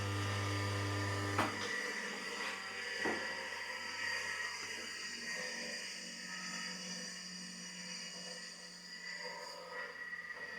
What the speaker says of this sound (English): And the motor bearings, what do they sound like? Don't sound too bad. What about under power?